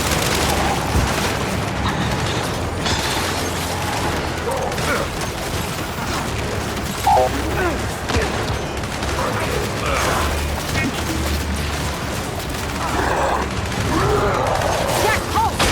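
Turret gunfire in the video game Gears 5, with sustained rapid bursts and booming impacts filling the whole stretch, loud and close, and soldiers shouting over the din.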